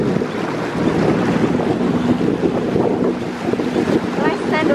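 A jet ski idles on open water, giving a low, rumbling engine drone under heavy wind buffeting and splashing water, with people talking faintly in the background.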